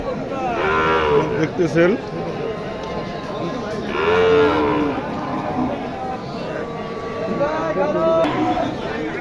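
Cattle low repeatedly in deep, drawn-out moos amid a noisy crowd at a livestock market in Chapar Haat, Kaliganj, Lalmonirhat, with someone speaking briefly over the steady market din.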